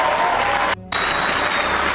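Loud, dense applause from an audience fills the space with a brief break partway through before resuming just as strongly.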